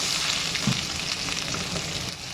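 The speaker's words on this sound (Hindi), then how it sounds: "बस हम प्याज को फ्राई कर रहे हैं" Sliced onions and garlic fry in a pan with a continuous close sizzle and a brief stirring clatter, steady and loud throughout.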